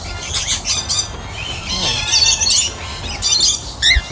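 Cockatiels in a zoo aviary at Brevard Zoo, Florida, squawk in a dense, shrill chorus of overlapping calls, loud and continuous with occasional wing flutters nearby.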